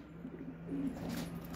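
Homing pigeons coo softly in a low, murmuring rhythm, faint and close by against a quiet background hum.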